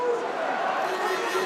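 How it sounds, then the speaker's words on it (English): Spectators at a men's water polo match between Hungary and Brazil in Budapest, a continuous mid-distance crowd roar with mingled voices, steady and rising slightly in energy. "that's infused the crowd to get a little bit more noisy"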